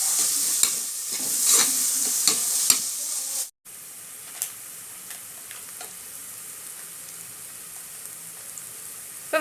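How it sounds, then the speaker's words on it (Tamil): Chopped garlic and onions sauté in a pan for Tamil tomato kadayal, giving a soft continuous sizzle with scattered stirring scrapes and clicks, brief pause midway, then a quieter steady frying hiss. "இப்போ நல்லா வதக்க விட்டுடலாம்."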